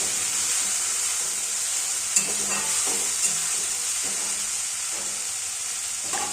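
Chopped water spinach (kalmi greens) stir-fried in oil makes a continuous hissing sizzle, with a few soft scrapes and knocks of a utensil tossing the greens in the pan.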